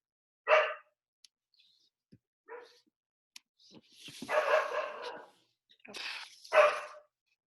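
A dog barks indoors in a few separate loud yips and barks, with quieter clicks and pauses between them and people talking nearby.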